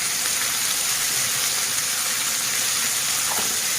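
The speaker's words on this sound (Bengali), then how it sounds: "আলুটা সুন্দর করে ভেজে নিলাম নুন হলুদ দিয়ে" Diced potatoes frying in hot oil with salt and turmeric give off a steady, even sizzle and hiss, close and unbroken, with no talking.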